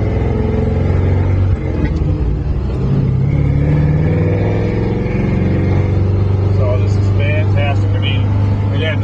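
The Chevrolet Camaro Concept's exhaust rumbles low and steady while driving, a continuous deep drone heard from on board, with a slight rise and fall in pitch as it cruises.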